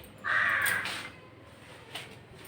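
A crow caws outdoors, one loud harsh call followed by a fainter second caw, heard alone over a quiet background.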